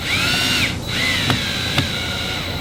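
Cordless drill driving 1 5/8 inch screws into fins on a homemade front splitter for a Honda S2000, whirring steadily with pitch dips as each screw seats and two sharp clicks.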